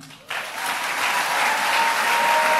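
Church congregation applauding for the mothers during a sermon, the clapping bursting in suddenly after a brief hush and swelling into a loud, sustained, dense roar of hands.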